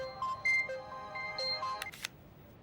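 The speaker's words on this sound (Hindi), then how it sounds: "आपका फ़ोन आया है।" A mobile phone rings with an incoming call, its electronic ringtone of bright repeating tones playing clearly in a quiet indoor room, ending with a short burst of noise.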